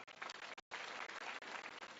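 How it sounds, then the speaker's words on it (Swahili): At an outdoor political rally in Kiambu County, a crowd applauds the county woman representative with dense, steady clapping that breaks off for a moment and then resumes. "Tumpigie makofi tafadhali."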